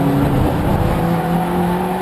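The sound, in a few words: BMW Compact race car on track at Silverstone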